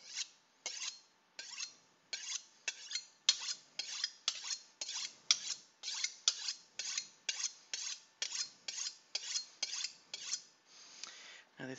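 A kitchen knife is drawn repeatedly along a honing rod, producing about two dozen crisp metallic swipes in a steady rhythm, close and clear against a quiet background.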